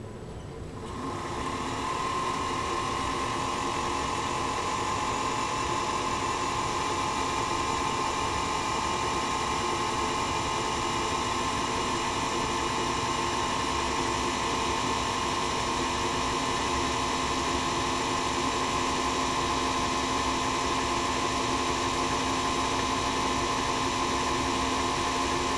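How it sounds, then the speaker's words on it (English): Singer Featherweight 221 sewing machine motor spinning under modest load without driving the needle shaft, a steady whining hum with a strong tonal drone that starts after a moment of quiet and runs evenly close by. "Listen to this motor now."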